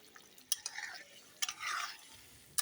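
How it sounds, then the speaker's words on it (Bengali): Soft, close scraping and stirring of green peas with paneer in spiced masala in a pan, with a few sharp utensil clicks against the metal over a faint background sizzle. "মটরশুঁটিটা দিয়ে একসাথে কষিয়ে নেবো"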